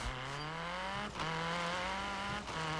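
A car engine in the Forza Horizon 3 free roam, a steady, loud droning note held near one pitch. It dips briefly twice as if between gears, with a harsh rasp over it and no talking.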